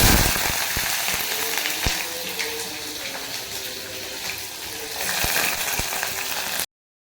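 Steady, hissing sizzle of gram-flour vegetable dish with onion, green chili and dry spices frying in hot oil, close up, with scattered sharp clicks of a utensil before it cuts off abruptly.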